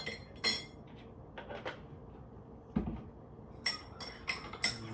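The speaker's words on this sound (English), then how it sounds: "Good old stir." A teaspoon stirs a cup of tea with milk, giving a few light, scattered clinks against the cup, quiet and close, with no talking.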